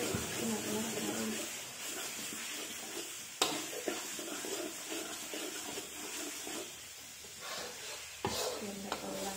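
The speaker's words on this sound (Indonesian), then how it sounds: "Nah ini lanjut tumis ya, sampai benar-benar harum." Spices for rendang stir-fried in a pan with chopsticks, a steady sizzle with scraping stir strokes and a couple of sharp knocks, under intermittent talk.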